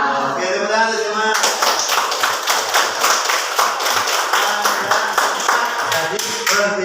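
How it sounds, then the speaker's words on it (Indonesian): An audience at a lesson on computational thinking breaks into rhythmic clapping after a voice at the start, the claps coming in a fairly regular, even beat that stays loud to the end. "Oke, tepuk tangan semua."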